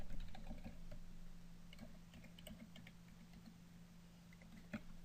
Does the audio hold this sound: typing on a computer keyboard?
yes